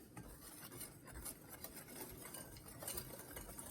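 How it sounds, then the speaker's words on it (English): A whisk stirs flour, baking powder and a teaspoon of salt together in a bowl, a soft continuous scraping and rattling with rhythmic strokes, close and quiet with no talk. "We're going to whisk that together."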